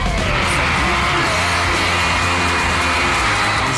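Crowd of fans screaming and yelling at a red carpet event for The X Factor UK, a dense, loud, continuous wall of shrill cheering with no break.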